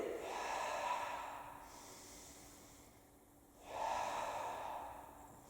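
Two long, breathy exhalations during a Pilates exercise, each a broad hiss of air lasting over a second, with a short quieter gap between them; close and moderately soft, no talking.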